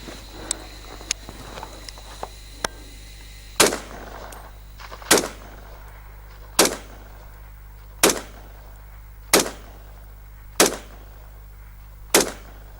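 Ruger SR-762 rifle firing 7.62 cartridges outdoors into a hillside, eight sharp loud shots spaced about every second and a quarter, each with a short echoing tail, after a few faint clicks and handling noises.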